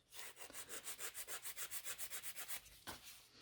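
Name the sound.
nail file filing a gel nail extension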